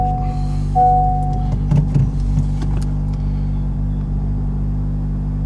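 A 2023 Honda Civic Type R, with its engine just started, sends a steady deep exhaust rumble at idle. A brief higher tone sits over it early on, and the sound settles into a constant low drone with no talking.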